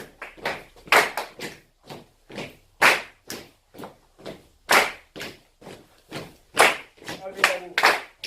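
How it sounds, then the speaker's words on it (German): Hand claps and finger snaps in a steady, even rhythm from a group music warm-up in a university class, each hit a sharp, close, dry crack spaced about half a second apart, with a brief voice near the end. "Klatschen auf der 1. Schnipsen auf der 2."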